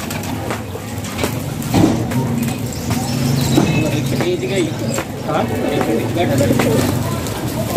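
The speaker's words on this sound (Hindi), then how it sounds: "नया कबूतर ऐड किया।" Pigeons coo softly in a rooftop loft in Punjab, a low murmuring under steady traffic noise with passing cars and buses, while someone talks throughout.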